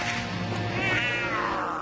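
A cartoon cat gives a drawn-out, wavering meow, loud and close, lasting nearly two seconds.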